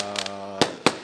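Fireworks bursting at a New Year celebration: a low sustained hum, then two sharp loud bangs close together, with crackle between them.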